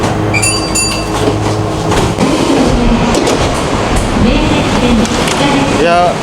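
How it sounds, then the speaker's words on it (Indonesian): Train noise at Nagoya station in Japan: a loud, steady rumble of rail cars with clattering wheels, squeals and brief high tones, filling the whole stretch with busy station ambience. "Ini suaranya agak bising, suara kereta"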